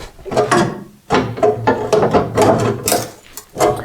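Pliers bend up the metal lip of a Triumph TR4's car floor pan, breaking spot welds with loud, close creaks, clanks and scraping metal bursts in irregular bursts.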